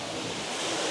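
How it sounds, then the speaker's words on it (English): Steady broadband rush of a waterfall outside a hotel lobby, heard close from near its base as a continuous, fairly loud wash of falling water with no voices. "there's actually a waterfall outside"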